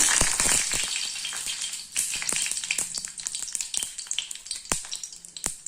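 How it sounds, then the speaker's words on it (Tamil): Dried red chillies dropped into hot oil for tomato chutney, with a loud hiss at first, then a dense run of close, sharp crackles and pops as the sizzle settles. "எண்ணெய் காஞ்சிக்கிச்சுங்க. கூட வரமிளகாய் போட்டுக்கலாம்."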